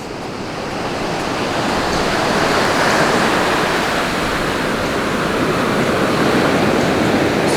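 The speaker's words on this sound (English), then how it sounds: "the sound of the waves is incredible" Steady roar of ocean surf washing onto Arambol Beach in Goa, a continuous broadband rush that swells slightly, close and loud.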